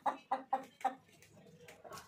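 A few chickens cluck in four quick, even bursts, then softer clucks trail off, close by but fairly quiet.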